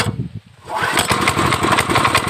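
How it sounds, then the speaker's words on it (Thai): A SAKURA 7.5 HP water pump engine is pulled over with a brief rasp, sputters for a moment, then catches and roars into a loud, steady, buzzing run close by. "เราก็จะมาสตาร์ทเครื่องยนต์กันนะครับ"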